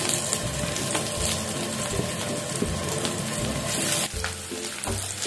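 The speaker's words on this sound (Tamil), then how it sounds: "நம்ம இப்போ இந்த ஆனியனை நல்லா வதக்கணும்" Onions sizzle steadily in hot oil in a pan while being sautéed for donne biryani, with a few cashews in the pan, and a brief clatter of stirring near the end; no one speaks.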